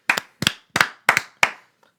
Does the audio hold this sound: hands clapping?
yes